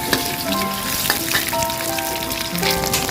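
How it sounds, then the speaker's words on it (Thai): Eggs stir-frying with shallots in a hot pan, a steady close sizzle and crackle with occasional scrape of a spatula, no talking. "จะคั่วไข่ต่อหอมแดงก่อนนะคะ"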